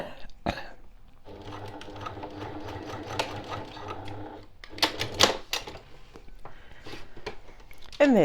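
A sewing machine runs a short, steady burst locking stitches on a zipper pouch seam, then stops, followed by clicks and handling noises; someone speaks briefly around it.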